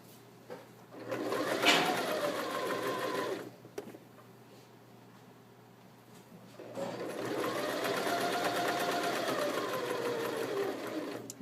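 A sewing machine stitches fabric around a corner seam, running in two steady bursts separated by a pause where the presser foot is lifted and the fabric turned, close and clear with no talk.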